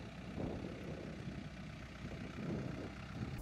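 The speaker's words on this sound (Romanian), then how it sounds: "Mă, așa merg cu motorul ăsta" A motorbike engine runs with a steady, low rumble while riding along a rough dirt road, close and continuous throughout with no talking.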